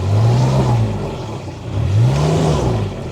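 A 2017 Kubota RTV-X900 utility side-by-side with about 1095 hours drives in full drive, its mid-pitched engine rising and falling in two revving swells, close and loud, with no talking.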